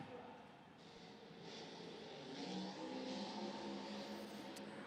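A Grave Digger monster truck engine roars and revs steadily at a Monster Jam event in the Tacoma Dome, a loud, sustained rumble with a swelling pitch and arena ambience, no voices over it.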